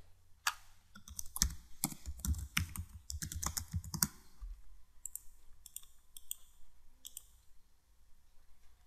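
Someone types education details on a computer keyboard, and the keys clatter quickly and steadily for about four seconds before thinning to sparse, lighter taps. Nobody speaks.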